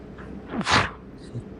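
A single short sneeze bursts out mid-conversation, fairly close and loud for a moment, with faint talk around it.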